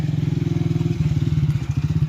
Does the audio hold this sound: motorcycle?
yes